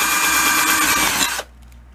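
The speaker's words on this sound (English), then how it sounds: "That's why I'm using a little bitty battery drill." A small battery drill whirs loudly and steadily for over a second while drilling a hole with a hand-sharpened HSS split point bit, then cuts off abruptly, leaving quiet room tone.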